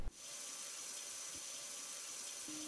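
Water runs steadily from a household faucet into a sink, a continuous hiss that stays fairly quiet and even throughout, with a faint tonal hum underneath and no voices.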